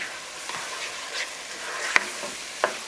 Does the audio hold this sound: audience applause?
no